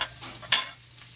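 Onion sautéing in a pan, a steady hiss of frying with light stirring scrapes and one sharper burst of sizzle midway, close and alone.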